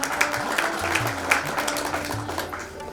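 Scattered applause from an audience at a staff gathering at a bus depot, sparse claps popping out at intervals over a low hum and background murmur.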